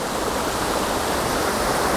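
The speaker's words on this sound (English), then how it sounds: "when you get really low, you can get this waterfall here in your foreground" Waterfall on Madeira in bad weather, heard from low and close as a dense, unbroken roar of falling water, loud and even throughout with no talking.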